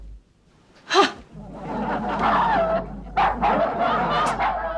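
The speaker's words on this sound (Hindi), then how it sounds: "इतनी जोर जोर से भौंकता है" A dog barks loudly in a domestic comedy scene, with one sharp, close yelp-like bark followed by a longer stretch of rough, voiced barking or growling that carries on steadily to the end.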